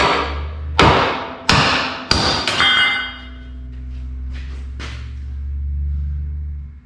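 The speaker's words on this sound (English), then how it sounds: "Let's get a hammer and I tried just to sever this weld" Heavy hammer blows strike a weld on a steel truck frame during a crew cab rework, four loud ringing metallic impacts in quick succession, then a couple of lighter taps over a low engine-like rumble.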